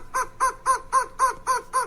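A long-tailed, ground-dwelling, chicken-like desert bird of the Southwest calls seven times in a quick, even rhythm, each call a clear, harsh, close-up note.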